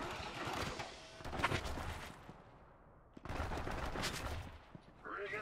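Gunfire in Borderlands 3 comes in two dense bursts of rapid shots, loud and close, split by a short lull. Other weapon and explosion noise from the game sits under it.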